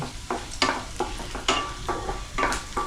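A masala dosa roasts on a hot griddle at a bicycle street stall in Mumbai, a close sizzling hiss broken by repeated short scraping bursts from a spatula roughly every half second.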